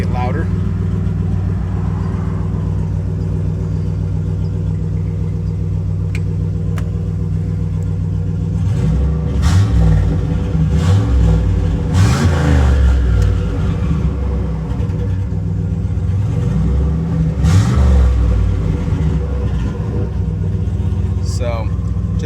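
Turbocharged 5.3 V8 in a GMC Sierra with a short 4-inch exhaust pipe, idling with a loud steady rumble, then several sharp revs swelling louder, with someone speaking over it.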